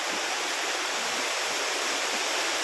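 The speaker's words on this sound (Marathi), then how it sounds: "हे बघा पाहू शकता तुम्ही, पाणी आहे. आता पाण्यातून चाललो." Stream water flowing steadily close by, a broad continuous rushing wash with no voices, heard while someone wades through it on a walking trail near Lonavala.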